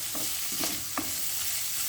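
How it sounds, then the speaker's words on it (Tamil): Curry leaves and pandan leaves sizzle as they temper in hot oil, a steady loud hiss with a few crackles as they are stirred. No voices are heard. "கருவேப்பிள்ளை மற்றது ரம்பை எல்லாத்தையும் போட்டு நல்ல வடிவாக தாளிப்போம்."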